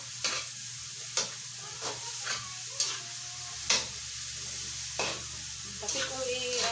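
Pork fat for pakbet sizzles quietly in a pan while a utensil scrapes and stirs it in about eight distinct strokes over a continuous low hiss.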